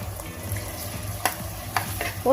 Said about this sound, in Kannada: ಸ್ವಲ್ಪ ಹೊತ್ತು 1-2 ಸೆಕೆಂಡ್ ಇದನ್ನು ಈ ಥರ ಫ್ರೈ ಮಾಡ್ಕೊಳ್ಳಿ.